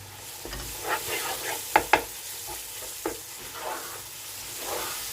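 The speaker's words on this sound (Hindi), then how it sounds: "तो अब हम इसे अच्छे से मिक्स करते हैं।" Minced keema being stirred and fried in masala in a pan, with a steady low sizzle and a few sharp scraping clicks of the spoon across the pan at irregular intervals, close and moderately quiet, no talking.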